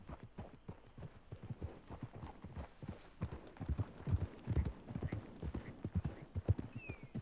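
In Red Dead Redemption 2, horse hooves clip-clop in a steady walking rhythm, close and fairly quiet, with a faint whinny near the end.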